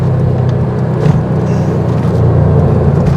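A Porsche 964 Carrera sweeps through corners on a road with elevation changes, its engine a steady rumbling drone heard from inside the car with slight rises and dips, no talking.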